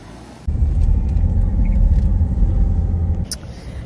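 A car rolling into a yard, its interior engine rumble rising abruptly, holding steady and loud for about three seconds, then cutting off and leaving quieter background noise and a small click.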